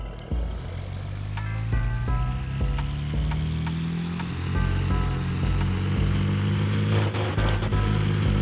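A four-cylinder car engine in the Lowriders Comeback Boulevard video game revs steadily, its buzzing tone rising in pitch, loud and continuous, with rapid rattling clicks running over it.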